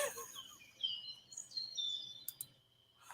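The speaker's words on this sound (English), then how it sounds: "Why am I hearing like birds?" Birds chirp in a video game, faint high tweets and short trills repeating over a quiet low background hum, with a few soft clicks.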